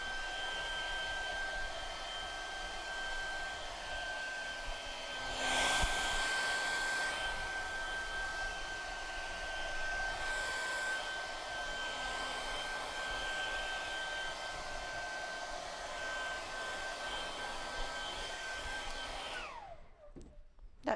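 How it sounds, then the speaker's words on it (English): A hairdryer blows steadily on artwork for about twenty seconds, a loud continuous whooshing drone with a thin whine that wavers slightly before cutting off abruptly at the end. "get the hairdryer out, whack it on."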